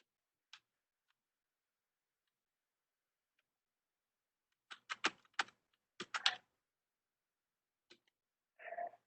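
Code is being typed on a computer keyboard in quiet, close-up bursts of clicky keystrokes, a few isolated taps separated by pauses and then a tight flurry of keys, ending with a brief rustle.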